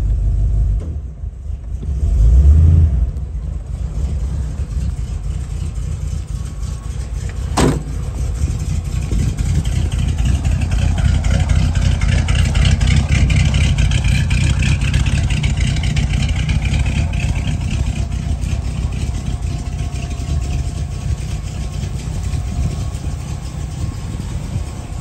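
Deep, steady idle from a Chevy 350 small block in a 1947 Ford Super Deluxe convertible with headers and dual exhaust, loud and close, with a short rev near the start and one sharp click partway through.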